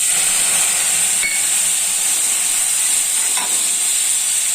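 Lemon juice poured into hot oil with asafoetida and turmeric, sizzling and hissing loudly and steadily in a pan while rice dishes are prepared, with no speech.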